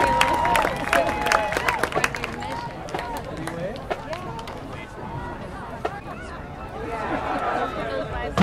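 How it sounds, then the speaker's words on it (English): A crowd applauds and cheers for a high school marching band at a stadium football game, steady broadband clapping that swells near the end, mixed with crowd chatter and a voice speaking over it. "Round of applause for the University High School Trojan Marching Band and"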